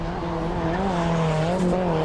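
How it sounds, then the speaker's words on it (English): Race car engine screaming on a sustained high note with tire squeal, a drift car with an underpowered SR20 engine sliding on 15-inch tires at a National Drift Series event, the driver kicking the clutch hard through a smooth, continuous drift. "He's on that clutch, kicking the car's clutch real hard, but he's keeping that drift nice and smooth all the way through that clip"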